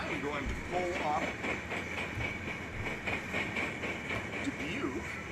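A freight train rolls past at Griffith with a steady broadband rumble and faint rhythmic wheel clatter, continuous and fairly close throughout, with a voice talking over it.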